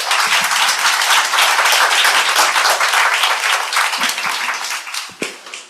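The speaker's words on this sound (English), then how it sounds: "Probably a round of applause for all of us." A panel-session audience applauds loudly and steadily for close to six seconds, the dense clapping tapering off near the end with a few last individual claps.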